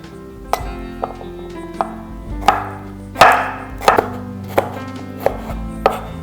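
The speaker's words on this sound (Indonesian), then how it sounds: "Pertama kita potong-potong 6 butir bawang merah" A knife chopping shallots on a cutting board for Indonesian shredded tuna, about a dozen steady, distinct thuds at a regular pace, close and clear, with no talk.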